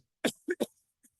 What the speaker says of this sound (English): So apologize for my coughing